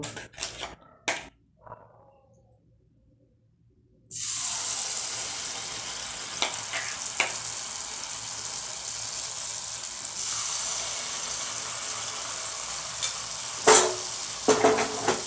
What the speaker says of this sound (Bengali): আমি এইভাবে সব মালপোয়াগুলো ভেজে নেব।